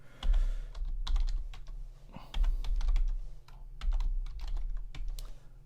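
Command being typed into a computer terminal on a keyboard, with steady bursts of close key clicks and keystrokes in an uneven rhythm and no talking.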